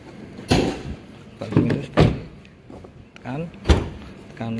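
The door and hood of a 2023 Toyota Agya are opened, giving several sharp latch clicks and clunks spaced over a few seconds, close by and fairly loud.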